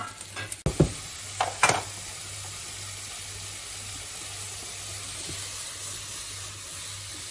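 Mushrooms sizzle steadily in a hot pan after a few clattering stirs at the start, a constant close frying hiss with no talk.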